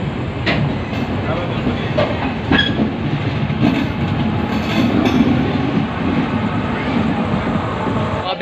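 Sampark Kranti Express passenger train running on the New Delhi to Guwahati route, a loud steady rumble from inside with rhythmic clickety-clack of wheels over rail joints.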